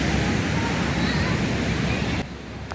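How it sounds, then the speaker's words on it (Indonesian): Afternoon surf at Lampuuk Beach in Aceh Besar washes in as a loud, steady broadband roar that drops off sharply near the end. "jadi kita bisa menikmati suasana pantai di sore hari ini"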